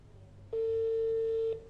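A single telephone ringback tone after dialing a call, one steady, clear beep lasting about a second, close and alone over a faint background hum.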